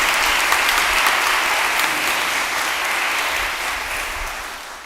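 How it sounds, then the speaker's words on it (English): A large audience at a college hooding ceremony applauds in a sustained, dense wash of clapping that stays loud throughout and fades slightly toward the end, with no speech over it. "please join the faculty and staff by giving a round of applause to all those who've supported you"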